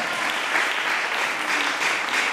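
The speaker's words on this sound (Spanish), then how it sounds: "Les voy a dar palmas al que vive de eso." A church congregation applauding steadily, a dense even wash of many hands clapping throughout with no voices rising above it.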